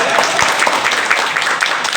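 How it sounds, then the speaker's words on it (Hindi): Audience at a company event bursts into brisk applause, dense overlapping claps sounding close and loud throughout, with voices mixed in. "ताली तो आपको चाहिए."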